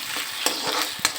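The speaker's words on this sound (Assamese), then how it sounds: "মই ধুনীয়াকৈ লৰাই ল'ম।" A spoon stirs food frying in hot oil with leaves added, a steady close sizzle broken by a few scraping strokes against the pan.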